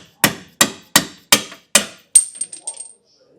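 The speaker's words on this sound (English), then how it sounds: "Once you get past those splines, it should hammer pretty easy" Five evenly spaced, loud metallic hammer blows drive a leaf spring bolt out with a punch while a Roadmaster Comfort Ride kit is installed. Each strike rings briefly, and a quick bouncing rattle of lighter clinks follows at the end.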